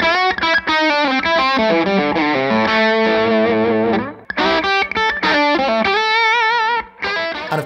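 Electric guitar through a Victory V40 Deluxe valve amp, bright and present, playing a fast run of overdriven single notes and chords with brief gaps, loud and close, no voices.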